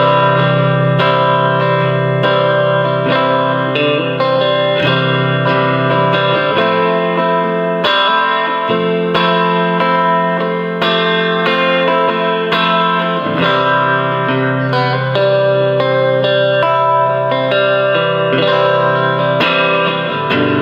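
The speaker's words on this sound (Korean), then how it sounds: "리버브를 걸어 연주하겠습니다." Electric guitar played through a Roland CUBE-10GX amp with reverb, loud and sustained chords and melodic lines ringing out with a washy tail, continuous for the whole stretch with no talking.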